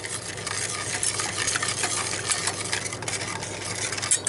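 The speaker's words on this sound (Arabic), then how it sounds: "هقلبهم كويس جدا" A spoon stirs starch and sugar for an orange cake in a bowl. The scraping and swishing is steady and continuous at close range, with faint background hum and no voices.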